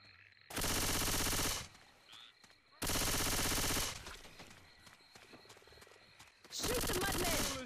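Automatic gunfire in co-op Left 4 Dead 2: three long, loud bursts of rapid shots separated by quieter game ambience.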